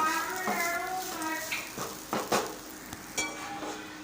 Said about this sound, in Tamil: தேங்காய் துருவலோடு சேர்த்து மிக்ஸ் பண்ணி விட்டுப்போம்